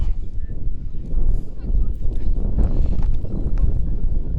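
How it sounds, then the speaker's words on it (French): Loud, gusty wind buffets the microphone with low rumbling bursts at an outdoor blind football match, while muffled voices are heard faintly underneath. "Il y a beaucoup de vent"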